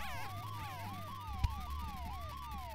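A video game police siren wails in a fast, rising and falling yelp, with a brief thump partway through and steady engine rumble underneath.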